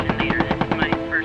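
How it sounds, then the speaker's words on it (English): Machine gun fire in the World War 2 video game Post Scriptum: a quick burst of about nine evenly spaced shots, fairly close and punchy, with a voice speaking faintly underneath. "I just gatted three of them with a machine gun"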